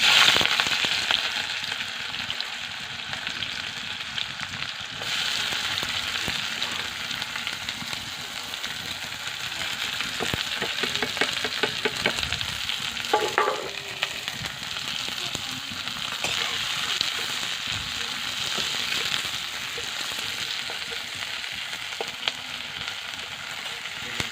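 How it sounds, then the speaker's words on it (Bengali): Steady sizzling of onions frying in hot oil for a meat curry, a dense crackling hiss that runs throughout with occasional stirring sounds, close and fairly loud. "পেঁয়াজটা ভাজা হয়ে গেছে"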